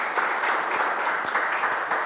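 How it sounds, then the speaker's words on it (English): A brief burst of audience applause at a gallery exhibit, many hands clapping in a dense, even patter close by with no break. "give yourselves a round of applause for being here and experiencing history"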